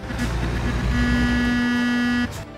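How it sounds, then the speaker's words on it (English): A loud, steady truck horn blares for about a second and a half over a rumbling engine, then cuts off, in the video game American Truck Simulator. "I'm gonna i give him a honk."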